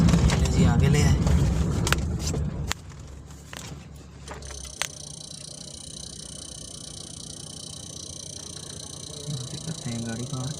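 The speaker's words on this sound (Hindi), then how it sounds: "करते हैं गाड़ी पार्क।" A car idles at low rumble, then its engine cuts off at a parking lot outside the Multan zoo; background voices, a crackle and a faint high electrical whine follow.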